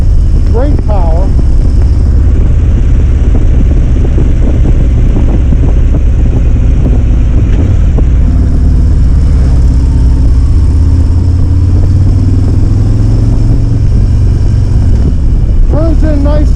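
Harley-Davidson Road Glide Special motorcycle riding along, a steady low engine drone and road rumble running throughout, with someone talking over it.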